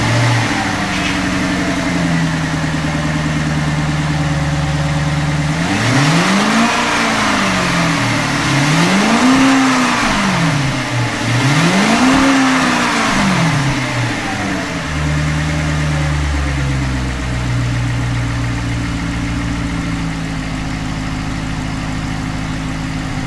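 A 2005 Cadillac XLR's 4.6-liter V8 idles, then revs three times in quick succession, each swell climbing and falling smoothly before settling back to a steady, loud idle with no talking.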